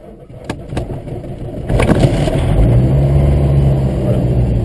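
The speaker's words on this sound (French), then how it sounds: "la seule action que je vais avoir à faire, c'est de mettre le contact moteur sur on" A light aircraft's engine cranks and catches, rising into a steady low running drone that holds loud and close to the end after a few brief starter knocks.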